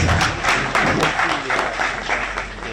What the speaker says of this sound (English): So I think it deserves another round of applause.